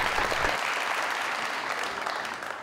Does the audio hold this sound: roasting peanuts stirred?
no